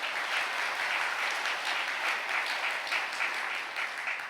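A congregation claps together in praise during a Catholic intercessory prayer gathering, a dense, steady wash of many hands sustained throughout without a break, fairly loud and close, with no voices standing out above it.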